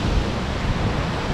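The White Bridges waterfall in Karelia roars as a steady, dense broadband rush of falling water, loud and close with no talk.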